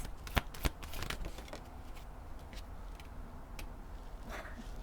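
Chakra oracle cards are shuffled by hand, giving a few crisp riffling snaps at the start that settle into a soft, continuous papery shuffle, quiet and close.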